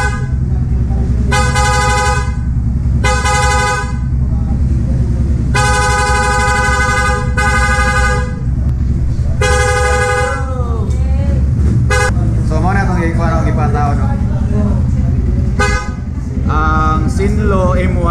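A stock vehicle horn sounds in loud, repeated blasts of varying length, mixed with louder aftermarket-style horn tones, over a constant engine idle close by while people talk throughout.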